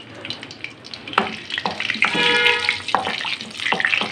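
Green cardamom, cloves and white cumin seeds frying in hot oil give a close, steady hiss and crackle that swells into louder bursts partway through.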